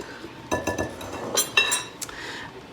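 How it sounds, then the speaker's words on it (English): A whisk beats oil, milk, eggs and vanilla into mashed bananas in a bowl for banana bread muffins, giving a few short, bright clinks against the bowl, close up and otherwise quiet. "I'm going to whisk the oil, milk, eggs, and vanilla into the mashed bananas."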